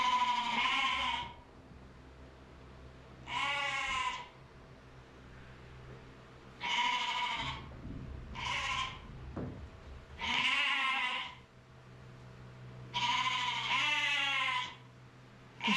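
Sheep bleat repeatedly, loud wavering calls coming one after another with short quiet gaps between them, close by.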